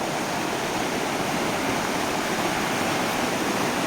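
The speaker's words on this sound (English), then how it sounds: "Look at this beautiful amount of water." Flowing stream water at Dan in Israel, a steady, dense rush of running water that fills the whole clip without pause, close and fairly loud with no voices.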